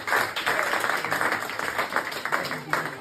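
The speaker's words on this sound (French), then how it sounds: "Applaudissez-vous." A studio audience on a French football talk show applauds, a dense, steady patter of clapping that stays fairly loud across the short stretch, with talking mixed in.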